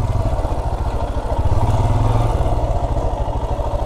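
A motorcycle engine idles steadily close by near a river in the Dooars, West Bengal, a low rumbling chug with some rattling clatter, with no voices.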